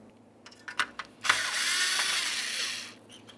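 A ratchet removes a 10 mm mounting nut behind the grille of a 2003–2011 Mercury Grand Marquis: a few close clicks, then a sustained whirring ratchet run lasting under two seconds.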